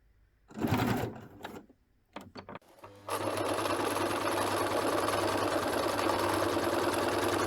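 A sewing machine runs steadily while stitching fabric for a garment, a continuous close mechanical whir with a low hum, preceded by a few short bursts and clicks as the stitching starts.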